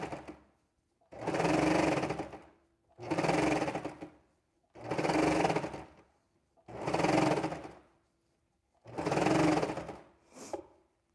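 A serger sewing machine stitches chunky fabric with its cutting knife switched off, running in five steady whirring bursts of about a second and a half each, separated by short pauses.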